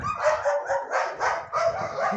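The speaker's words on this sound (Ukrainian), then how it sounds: "Барбосик, ти на нору гавкаєш" A dog barks at an animal burrow outdoors, giving about five short, fairly loud yips in an uneven rhythm that come close together with brief gaps, heard alone without talk.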